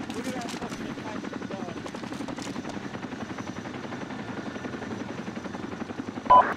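Helicopter in the military game Arma 2, a steady rhythmic rotor chop close by throughout, with occasional distant gunfire and people talking over it.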